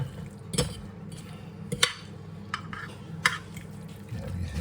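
Chicken shawarma marinade being stirred with a fork in a bowl, giving a soft, steady squelching churn with a few sharp clinks of metal against the dish, close up and with no talking.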